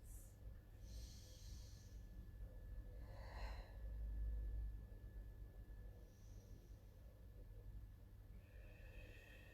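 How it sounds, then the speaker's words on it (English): A few slow, audible breaths during a Pilates session, with an airy inhale swelling in the middle, set against a quiet room hum and a faint background tone. "nice deep breaths"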